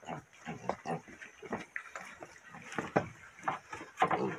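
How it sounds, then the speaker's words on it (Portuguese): Grunts and oinks from a pig that is being fed new feed come in short irregular bursts at close range, with a person talking intermittently over them. "Esse porquinho, ele é meio enjoadinho para comer, pessoal."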